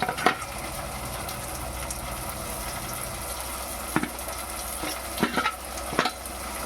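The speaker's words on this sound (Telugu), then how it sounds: "పచ్చిగా ఉంటాయి కాబట్టి కొంచెం వేగినాయంటే ఉడికిపోతాయండి" Green peas and prawns fry in a pan for a Rayalaseema-style curry, giving a continuous close sizzle with occasional scraping stir strokes breaking through.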